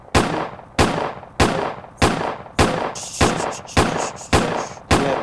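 Eight sharp gunshot effects fire in a steady, evenly spaced rhythm, each loud crack followed by a short decaying tail, with no voices over them.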